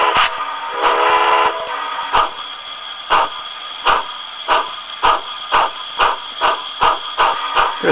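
A model train locomotive's sound unit, played through a reverse-mounted speaker and run up on a CVP throttle, gives a horn blast, then settles into steady, evenly spaced chuffs.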